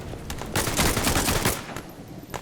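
Gunfire in the war video game Glory To The Heroes, with a burst of rapid shots in the middle, scattered single cracks before and after, and loud, close, harsh reports.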